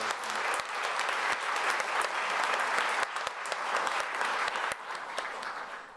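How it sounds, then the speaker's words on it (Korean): A church congregation claps for its women members during a Korean worship service, giving sustained, moderately loud applause with a few sharper claps standing out, and no clear speech over it. "우리 여신도 분들을 위해서 한번 우리 크게 박수를 시작했으면 좋겠습니다."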